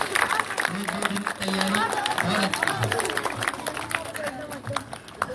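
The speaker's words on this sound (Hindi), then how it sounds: "जोरदार ताली उसके लिए।" An audience claps at a school event to applaud a student, with steady, dense clapping running throughout the clip. Someone speaks over the applause.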